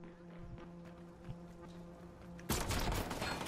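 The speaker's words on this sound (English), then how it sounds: "they're shooting" Gunfire in the video game Watch Dogs 2: a quiet backdrop with a low hum and faint pops, then a loud burst of rapid shots that starts abruptly and rattles on to the end.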